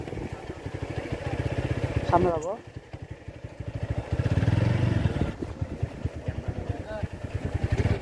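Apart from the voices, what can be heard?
motorcycles passing on a hill road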